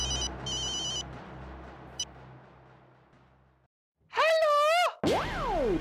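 A telephone rings in short electronic trilling bursts near the start. Later come warbling, swooping comic sound effects, with a gap of near silence between them.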